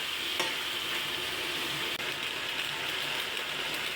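Chicken pieces being stirred and fried with masala in a pan for biryani, a steady close sizzle broken by scraping and clinking stirring strokes.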